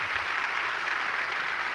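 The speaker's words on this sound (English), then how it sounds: "Let's give them both another hand." Steady clapping from a crowd, dense and continuous throughout the short stretch, with no voices standing out.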